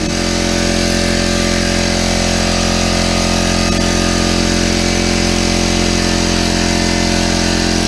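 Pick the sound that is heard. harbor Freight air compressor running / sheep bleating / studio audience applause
harbor Freight air compressor running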